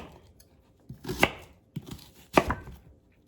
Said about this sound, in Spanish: Lo primero que voy a hacer, voy a partir mi cebolla.